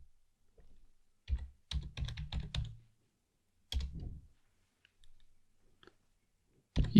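Computer keyboard keys tapped in short bursts of clicks, a quick flurry followed by a pause and a few more presses, close and fairly quiet.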